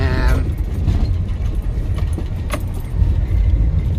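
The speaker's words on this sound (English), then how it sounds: "I'm wheel spinning all over the show" A van's wheels spin on a slippery, muddy track, giving a loud, continuous engine drone and churning rumble with a rattling jangle at the start and a brief knock partway through.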